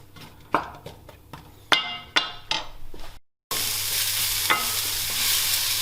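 Onion cooking down in a pan with shallots and garlic for a Guinness hot pot, a steady sizzle broken by several sharp utensil clinks and scrapes, a brief gap, then a louder continuous frying hiss.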